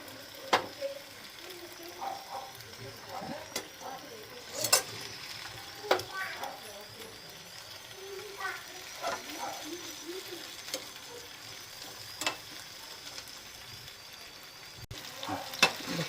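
Marinated pomfret fish frying in oil, a steady crackling sizzle with occasional spatter pops and light utensil clicks, moderately close and without speech.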